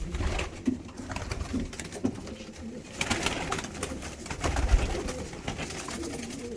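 Omsk pigeons coo softly in a coop, low repeated rumbling calls close by, mixed with faint rustling and shuffling and no speech.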